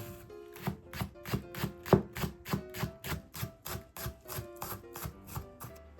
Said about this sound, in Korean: 파는 반으로 썬 후 송송 썰어주세요